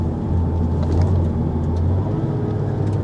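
A Mazda MX-5 RF 2.0 Homura idles with a steady, low, close engine rumble and no clear revving.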